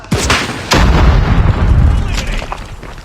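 Loud automatic gunfire from Call of Duty Mobile rattles on in a dense, unbroken stream. A sharp shot opens it, then a heavier burst swells and fades slightly toward the end.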